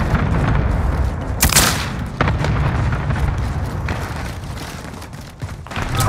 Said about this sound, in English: Grenades flying.